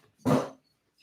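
A single short dog bark, close and fairly loud, in a home kitchen during Christmas dinner preparation, followed by quiet.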